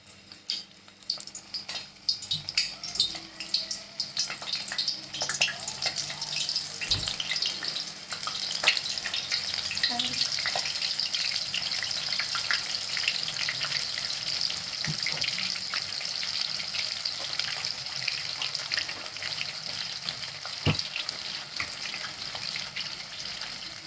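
Chilli ring bhaji deep-frying in hot oil in a kadhai give a continuous bubbling sizzle, with scattered crackles and occasional utensil knocks, close and without speech.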